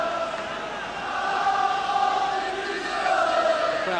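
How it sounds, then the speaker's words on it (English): Stadium crowd at a 1983/84 UEFA Cup match between Tottenham Hotspur and Bayern Munich, a broad continuous roar swelling steadily louder as fans lift the home side, distant and sustained with no clear words. "The crowd now beginning to lift Tottenham."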